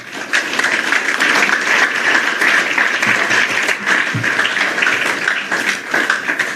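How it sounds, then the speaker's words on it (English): A large crowd of students at a university gathering claps steadily and loudly for several seconds, a dense continuous wash of applause with a few louder individual claps and faint voices mixed in. "Clap for yourself."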